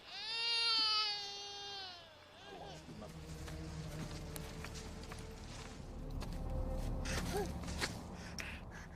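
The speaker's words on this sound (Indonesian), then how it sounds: "suara tangisan dari seorang bayi sempat terdengar oleh para pasukan pemberontak" A baby's wailing cry rises loudly and alone at the start of a war film scene, a sustained high sobbing that fades after a couple of seconds into a tense, rustling background with footsteps and occasional faint cries.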